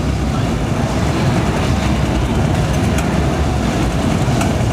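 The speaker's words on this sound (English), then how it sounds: "Now, the truck comes to a stop." A truck in the game Splinter Cell Double Agent rumbles loudly and steadily as it comes to a stop, a dense engine and road roar with no voices over it.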